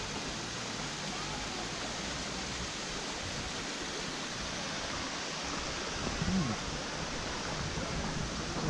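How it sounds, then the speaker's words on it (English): A small waterfall near Dyserth pours in a steady, even rush of falling water, close and continuous, with no other sounds standing out. "Another little waterfall."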